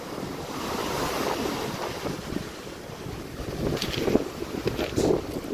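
Surf from the sea washing onto a beach after storms, a steady broadband roar with wind buffeting the microphone and a few louder wave bursts toward the end.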